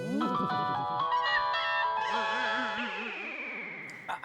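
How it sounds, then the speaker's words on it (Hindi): A phone rings indoors with a bright electronic melodic tone, repeating loudly for several seconds before cutting off, while people talk nearby. "फोन है सुंदर, फोन।"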